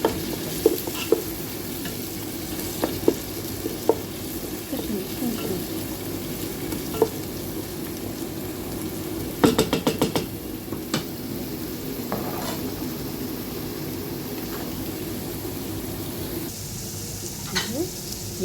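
Ginger and garlic frying together in a pan alongside onions, a steady crackling sizzle punctuated by scattered clinks and a cluster of sharper metal scrapes midway, with occasional faint background noise.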